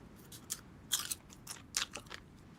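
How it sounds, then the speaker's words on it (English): Close-up ASMR chewing of crunchy food: crisp, bright bites and crunches in irregular clusters, a few loud, sharp ones among softer chews, intimate and near, without talking. "Can y'all hear the chewing?"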